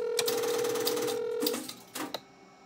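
A phone line connected to an old Strowger PABX exchange gives a steady tone that cuts off. A few clicks and short buzzy bursts follow as 8 is dialed, all close and clear with no voices.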